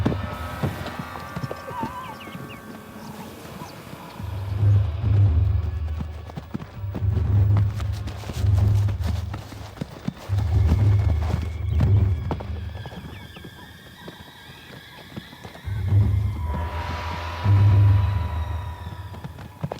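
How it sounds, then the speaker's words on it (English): Zebra stallion charging in and attacking a newborn foal: repeated bursts of heavy hooves and scuffling rumble in the dust, loud and close, with a brief whinny near the end. "A stallion rushes in and attacks it."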